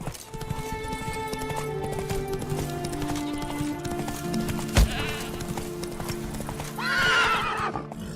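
Hooves clip-clop in a steady rhythm as the horse Roach gallops in The Witcher 3, with a sharp thud midway and a horse whinny near the end, all fairly close.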